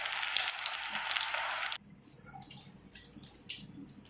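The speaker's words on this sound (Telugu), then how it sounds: "మంచిగా 2 వైపులా ఫ్రై చేసుకోవాలి." Sweet corn pakodas fry in hot oil with a loud, dense sizzle that suddenly drops to softer crackling and bubbling, heard close up and alone.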